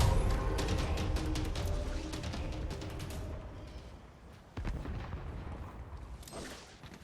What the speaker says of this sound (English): I secured it and threw some grenades.